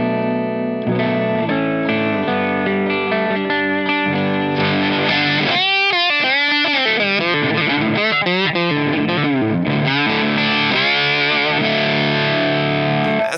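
Lap steel guitar run through Mr Glyn's pickups, sustained distorted chords and sliding notes with effects and chorus-like shimmer, loud and continuous, the pitch gliding and wavering through the middle, with no talking.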